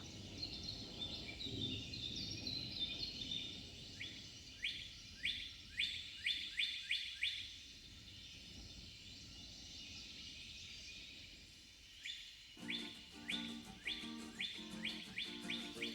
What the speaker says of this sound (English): Then, just songbirds.